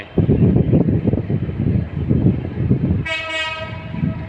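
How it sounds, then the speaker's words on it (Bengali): A train rumbles heavily nearby at Dhaka's Kamalapur railway station, then a loud horn blasts near the end over the continuing rolling noise. "রেলগাড়ি এসে থাকে"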